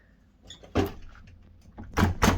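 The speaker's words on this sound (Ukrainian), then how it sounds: "Тепер треба переконатися, чи я зможу вийти звідси якось. Чи попустило ці довбані двері." A stuck office door is tried: a loud knock or rattle of the door, then a quieter stretch of faint handling noise, then two more strong rattling jolts close together near the end. No one speaks.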